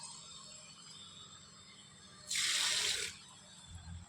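Water is poured onto a chili plant in a garden, a short bright splash of under a second standing out against quiet background hum, with no talking.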